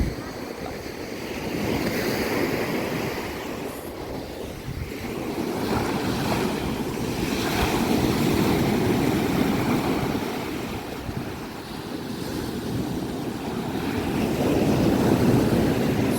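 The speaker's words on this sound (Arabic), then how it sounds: "صوت الموج نفسه شديد" Strong sea waves crashing and washing up a steep beach at Ras El Bar around dusk, a loud continuous surf roar that swells and recedes, mixed with wind buffeting the microphone.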